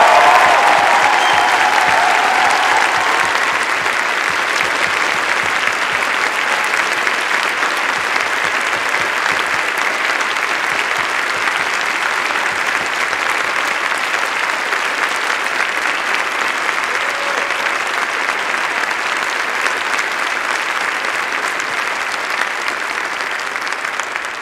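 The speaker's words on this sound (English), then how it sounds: "please blow the roof off with another round of applause for all your family and friends" Sustained, loud applause fills a large graduation ceremony hall as the crowd honours graduates' family and friends, a dense steady roar of many hands lasting over twenty seconds and slowly tapering toward the end.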